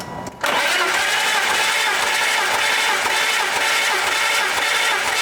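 A BMW M3 engine cranked by its starter with all spark plugs removed and the fuel pump fuse pulled for a compression test, after years sitting abandoned: a loud, steady, even whirring crank that starts abruptly and runs on without firing.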